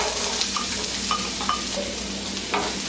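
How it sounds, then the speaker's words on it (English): Onions frying in a little oil in a pan over medium heat, stirred now and then: a steady soft sizzle with a few light spatula scrapes and clicks against the pan. "I've been stirring this for a minute now."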